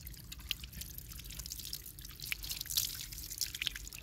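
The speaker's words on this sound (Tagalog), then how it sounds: "Ito ay agusan ng tubig." Cold water trickles and drips along a cement channel outdoors, small irregular splashes and droplets close by over a faint low hum, no talking.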